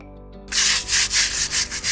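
Mortar being rubbed by hand across the face of a reclaimed stone wall, a gritty scraping that starts abruptly and repeats in about six steady, close, fairly loud strokes with no talking.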